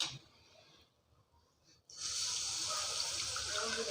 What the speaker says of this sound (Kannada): ಇವಾಗ ಹುಣಸೆಹಣ್ಣು ರಸ ಹಾಕೋಣ.